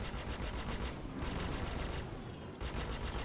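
Panther repeater ship guns in the Star Citizen game fire in rapid, continuous automatic bursts, loud and dense, with a brief break before the firing resumes.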